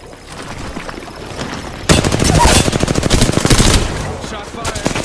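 Rapid automatic gunfire from Apex Legends gameplay breaks out after a quieter stretch and runs loud and sustained to the end, close to the listener.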